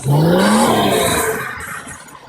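A Daewoo Lanos pulls away from a traffic light, its mid-pitched engine revving up steadily then fading as the car moves off, close by and loud with no voices.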